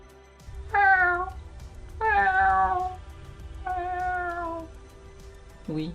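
A cat meows three times in drawn-out, clear cries spaced about a second apart, close and loud, followed by a short low sound at the end.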